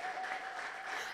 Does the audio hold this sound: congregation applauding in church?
yes